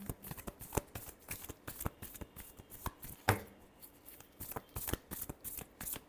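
Tarot cards are shuffled by hand in close, dry riffling bursts and sharp slaps, an uneven rapid rhythm of papery snaps with one louder smack partway through, no voice over it.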